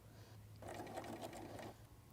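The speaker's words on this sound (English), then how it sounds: "start sewing in reverse to back up to it" A sewing machine stitches in reverse through felt in a short quiet burst of about a second, a soft rapid mechanical whirring up close with low hum before and after and no speech.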